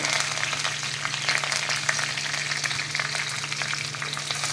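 Mustard seeds, cumin, curry leaves and green chillies frying in hot oil for an onion egg curry, a loud, dense, continuous crackling sizzle with sharp popping throughout.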